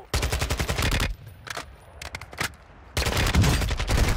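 Video game shootout with dense automatic gunfire: a long rapid burst, a few scattered shots, then another sustained loud volley.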